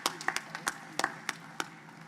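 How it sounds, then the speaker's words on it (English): A small auditorium audience at a fall university convocation claps for a philharmonic society: a thin scatter of about eight sharp, separate hand claps, fairly close, with no crowd roar. "Let's give them another round of applause."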